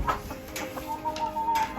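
Chickens cluck and make soft, upset-sounding calls inside a chicken coop, close and continuous, with a sustained tonal note among the short clucks and no talking.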